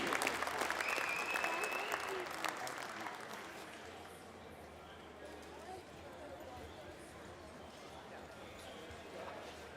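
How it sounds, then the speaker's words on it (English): A crowd at a heavyweight Canadian horse pull finals applauds, a broad dense wash of clapping from a large outdoor audience that starts fuller and slowly thins, with faint voices and distant activity underneath. "Let's give a big, big round of applause"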